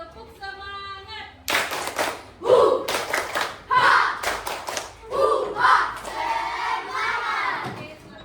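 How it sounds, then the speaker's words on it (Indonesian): A classroom of students stands and performs a rhythmic spirit clap, sharp claps and thumps in quick patterned bursts mixed with shouted chanting voices, loud and close, following a brief spoken lead-in. "Tepuk semangat."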